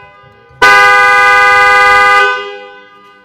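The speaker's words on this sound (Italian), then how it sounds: "superare il clacson di questa bestia" A car horn blasts loudly and steadily for about one and a half seconds, then cuts off with a short fading ring, after a quiet background.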